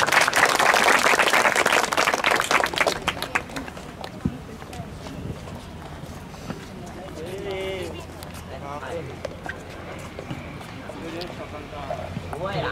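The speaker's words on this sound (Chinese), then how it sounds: "掌声欢迎" A school audience at a junior high tourism-skills outreach event claps loudly to welcome student performers, a dense burst for about three seconds that fades into scattered voices and talk.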